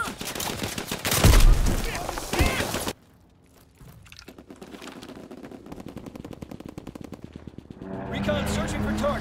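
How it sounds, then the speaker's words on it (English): An aircraft strafing run in the World War II shooter Call of Duty: WWII opens with a loud blast of gunfire and impacts, drops abruptly to near quiet, then builds into a steady, rapid rattle of automatic fire that grows heavier toward the end. "Strafing run inbound."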